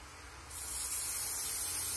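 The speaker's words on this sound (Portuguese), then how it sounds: "Deixa eu passar um pouquinho de spray também." An aerosol spray can hisses onto an EVA foam bow, a steady close burst of hissing that starts abruptly after a brief pause and continues to the end.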